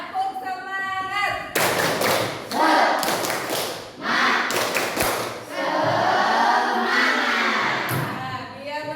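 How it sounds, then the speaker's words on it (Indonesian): A school class performing a rhythmic spirit clap, tepuk semangat, in an art and culture lesson: bursts of patterned group claps and thumps mixed with children's shouting voices, loud and close, with a teacher's voice briefly at the start. "Tepuk semangat."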